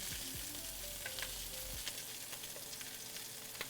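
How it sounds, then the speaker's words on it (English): Pork chop searing in a hot pan, a steady close sizzle with small pops and a brief scrape of a utensil near the start, no voices. "we are trying to get this seared"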